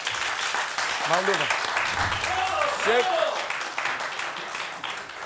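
A studio audience on a TV game show applauds with a steady wash of clapping, and voices speak over it.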